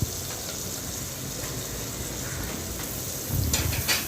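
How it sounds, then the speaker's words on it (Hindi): Chopped spinach hits a hot pan on low flame, giving a steady broadband sizzle throughout, with a brief louder burst of crackling and stirring near the end. "चलिए अब इसमें मैं ये कटी हुई पालक डाल रही हूँ।"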